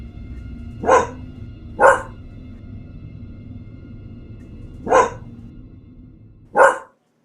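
A dog barks at night in four sharp, separate barks spread irregularly over several seconds, fairly close, over a low steady background hum.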